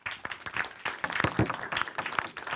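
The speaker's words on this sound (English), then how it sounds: "Applause." Applause at the close of a conference session, a modest, uneven patter of individual claps from a small audience, fairly soft and loosening toward the end.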